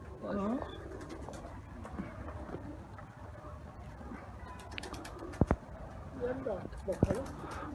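Pigeons in a coop housing Ankara play birds, with soft repeated cooing and brief bursts of wing flapping, while people talk nearby.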